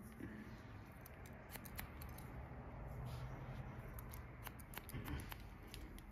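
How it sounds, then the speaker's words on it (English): Hair shears snipping during a pixie haircut, a run of quick, crisp cuts repeating irregularly, close and fairly quiet over soft background noise. "bring the shears up here. Cut that hair away."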